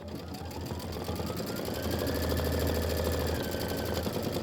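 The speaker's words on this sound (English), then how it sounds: "this is 4 minutes of stitching" An embroidery machine stitches a poinsettia design with a rapid, steady mechanical whirring and buzzing hum, close and continuous.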